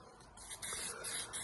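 Spray nozzle misting paint or coating onto a boat rail during a restoration, a steady faint hiss that swells and wavers over a second and a half, with the nozzle starting to sputter.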